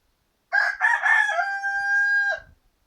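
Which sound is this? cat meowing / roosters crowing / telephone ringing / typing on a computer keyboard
roosters crowing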